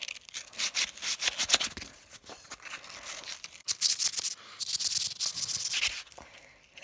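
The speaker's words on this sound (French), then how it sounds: "on va tout poncer avec ce grain" Fine-grit sandpaper rubbing over a handmade wooden spoon, rapid close strokes in uneven bursts with brief pauses between passes, fairly quiet and with no talk.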